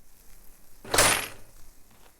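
A door opens in the farming video game Farmer's Dynasty on a door in need of repair, giving a single brief creaky scrape with a rattly, metallic edge against quiet background and no speech.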